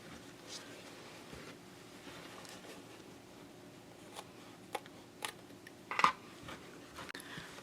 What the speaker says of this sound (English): Go ahead and trim the ends of the zipper even with the edge of the bag.